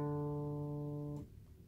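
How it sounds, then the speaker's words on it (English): The open fourth string of a guitar plays a D, a single steady sustained note ringing clearly alone before it stops abruptly. "playing the fourth string by itself is D"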